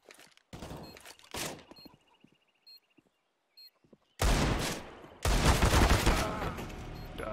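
Gunfire from a video game match comes in sharp, scattered shots early on. After a quiet stretch with faint clicks, heavy sustained bursts of fire fill the last few seconds.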